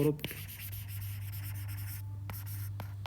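Chalk or marker writing on a board during a soil engineering lesson, with short scratchy strokes over a steady hum, with someone speaking briefly.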